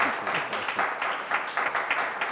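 An audience applauds a professional basketball player, a brief but full burst of many hands clapping close together with no break.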